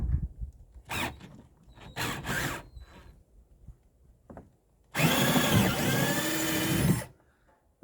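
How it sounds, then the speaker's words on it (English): A 1/4 inch power drill bores through a part of a 16 ft Expandacraft outrigger canoe, whirring in one steady, loud two-second burst after faint handling knocks and clicks. "I've got my 1/4 inch drill."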